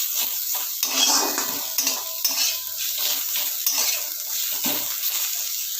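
Fried mustard greens with added sugar are stirred in a pan. A utensil scrapes and clatters rhythmically against the pan over a steady sizzle, close and alone.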